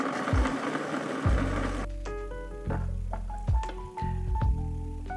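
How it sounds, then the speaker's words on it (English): A food processor whirs loudly as it blends vegan Caesar salad dressing for about two seconds, then stops, leaving scattered clicks and rattles. "Put the lid on and process it for 3 to 5 minutes, scraping down sides as needed."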